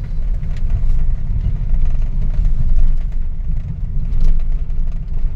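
Hyundai Starex van with a low-power fault being revved, the engine holding a steady, loud, droning roar with slight swells and no clear climb in pitch, heard alone without talk.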